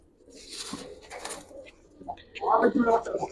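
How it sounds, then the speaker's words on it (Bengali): Giribaz pigeons in a loft give soft cooing calls close by, a few short bursts followed by a louder stretch, with someone speaking over them. "মাশাল্লাহ এত সুন্দর কবুতর"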